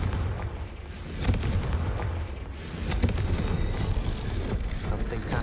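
A fire spell explodes in Hogwarts Legacy with a deep blast and rumbling booms over dense game background noise, loud and close.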